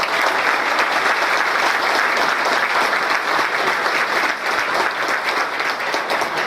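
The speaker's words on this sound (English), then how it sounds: "Let's give a round of applause." Audience at a celebrity breakfast event clapping in a steady, full round of applause that fills the room for several seconds without letting up.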